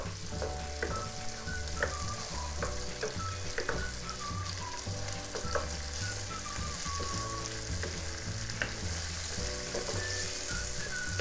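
Tomatoes fry for a cabbage curry, a steady close sizzle crackling in the pan with rhythmic stirring and scraping knocks throughout, no voices.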